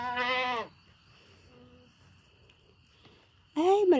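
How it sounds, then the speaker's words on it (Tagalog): A large billy goat bleats loudly and nearby at the start, then calls again at the end in a rising, wavering bleat, with a quiet outdoor garden pause between the two calls. "Billy Goat yan eh."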